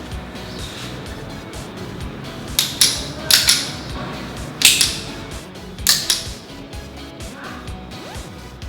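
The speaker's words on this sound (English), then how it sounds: "And now we're going to shoot the rubber band gun." A homemade rubber band gun firing, a few sharp snapping cracks spaced a second or so apart over a low steady background hum, fairly close and crisp.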